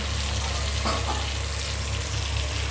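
Spinach cooking in oil in a covered pan, a steady, even sizzle and hiss that holds at a constant level throughout with no talk.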